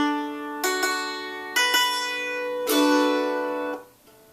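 A mandolin with four courses of double strings tuned in unison rings out three bright strummed chords, each sustaining long before the last fades, close and alone.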